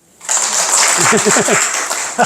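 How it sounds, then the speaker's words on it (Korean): Applause for the lay helpers at a Buddhist temple retreat-closing ceremony breaks out suddenly and holds steady, with a voice talking over the clapping. "우리 특히 거사님들한테 박수 쳐줘."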